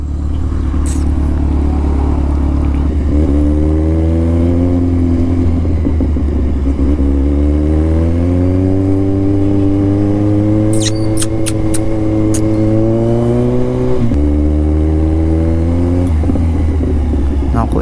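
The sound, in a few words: road traffic, cars and motorcycles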